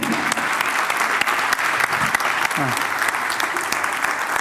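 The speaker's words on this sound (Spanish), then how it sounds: "Y les pido un aplauso a todo este comité." A congress audience in Argentina gives a sustained round of dense, loud applause for the organizing committee, with a voice briefly audible beneath the clapping.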